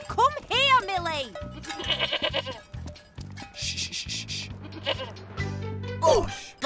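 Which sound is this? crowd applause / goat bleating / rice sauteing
goat bleating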